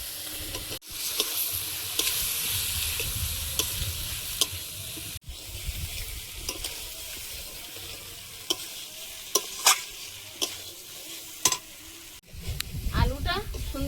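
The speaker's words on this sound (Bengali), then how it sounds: "আলুটা সুন্দরভাবে মশলার সঙ্গে কষিয়ে নিয়েছি, একদম কড়ার গায়ে লাগছে না" Potatoes being fried with spices in a kadai, a continuous sizzle with repeated scraping and stirring strokes of a spatula against the pan, close and fairly loud, with occasional sharp knocks.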